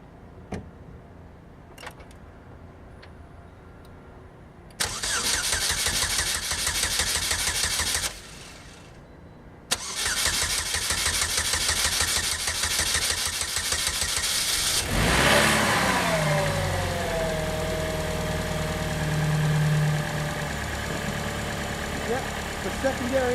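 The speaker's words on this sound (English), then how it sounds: "does this car still run? Why, yes, it does." A Chevrolet Cobalt engine cranks and fires up, then settles into a steady running idle with a faint whine, loud and close throughout.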